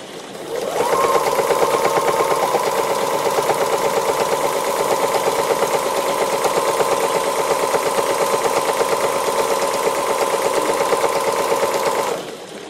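A sewing machine doing free-motion embroidery runs steadily at high speed for about eleven seconds, a dense continuous whirring rattle, close and loud, stopping abruptly at the end.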